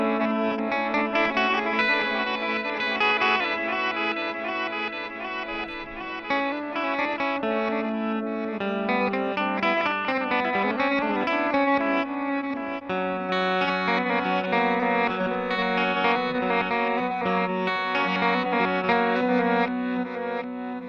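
Guitar through a Boss DD-8 delay pedal set to reverse mode, swelling backward-sounding repeats blending with distorted chords in a continuous wash, loud and close with no talking.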